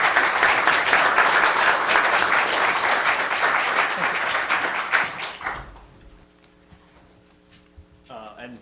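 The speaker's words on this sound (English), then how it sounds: "A round of applause to them." Audience applause at an international anti-piracy conference, a dense sustained clapping that carries for about five seconds before dying away into quiet room tone, with a brief stir of noise near the end.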